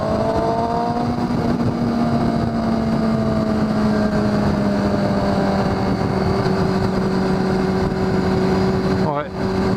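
A Kawasaki ZX6R (636) motorcycle drones steadily at cruising speed under heavy rushing wind, with a rider's voice talking over the engine throughout.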